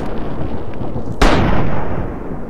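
A single loud, sharp gunshot in the video game Fallout 3 cracks out midway and decays over a busy background of game ambience, with no talking.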